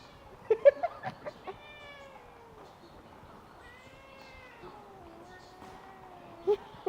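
A cat in Ephesus, Turkey meows in drawn-out, whining cries, rising and falling over several seconds, with a few soft bumps and rustles nearby.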